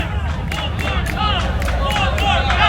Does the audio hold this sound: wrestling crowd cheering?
yes